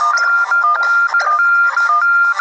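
Loud, bright electronic phone notification chime with warbling tonal bursts, repeating over a couple of seconds with no voices.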